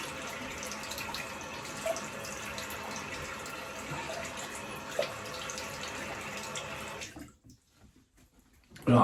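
Tap water runs steadily for a cold rinse, a continuous splashing hiss at moderate level that cuts off abruptly near the end, followed by a short quiet gap and a brief clunk.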